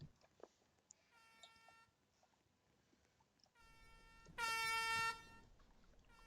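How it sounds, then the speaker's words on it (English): Car horns honk in celebration after a Canadian Grand Prix, a layered chorus of sustained blasts from a distant crowd that swells into one loud, long honk near the end. "the people are going to be honking their horns, celebrating a tad bit there"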